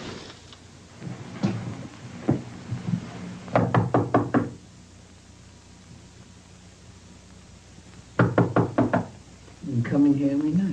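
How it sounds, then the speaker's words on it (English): Knocking on a door of a neighbor's home in a black-and-white film: several quick sharp raps, a pause, then another burst of rapid knocks, loud and close, with someone talking briefly at the end. "the two partners, knock on the door of Chan's neighbor looking for the missing Chan"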